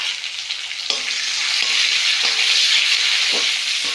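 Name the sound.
frying onion and tomato in a pan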